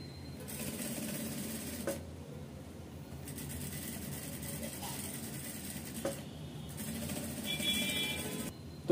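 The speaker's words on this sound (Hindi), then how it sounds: "गले को राउंड में हम सिलाई लगा रहे हैं" A sewing machine stitches around the round neckline of a blouse, its quiet, close mechanical whir running continuously with short pauses between runs.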